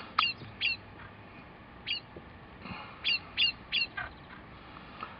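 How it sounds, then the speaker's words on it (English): Sharp, agitated bird calls ring out in about six short bursts, some close together, as small birds mob a long-tailed cuckoo at Cabranosa near Sagres, Portugal; a faint background hum sits underneath. "the other birds are making a bit of a fuss when he turns up"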